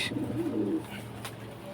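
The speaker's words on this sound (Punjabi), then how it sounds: "ਆ ਹੈ ਜੀ ਆਪਣੇ ਲੱਕੇ ਕਬੂਤਰ" Soft cooing of Lakke (fantail) pigeons, a short low murmuring coo heard faintly and briefly from nearby.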